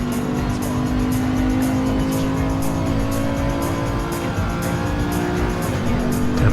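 A race car engine in a racing video game holds a steady, loud drone throughout, with constant engine tone and faint tire noise, no voices.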